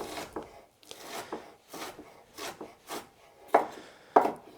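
A knife chops through onions on a cutting board in a kitchen, about eight separate close thuds in an uneven rhythm, the last two strokes sharper and louder, with no voice.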